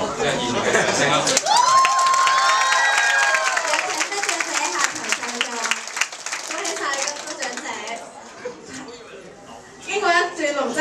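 Audience at a school graduation dinner breaks into loud, sustained applause with cheering and shouts, a crowd-wide burst that holds strong then eases off toward the end before a brief final swell.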